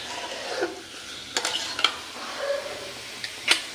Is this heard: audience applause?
no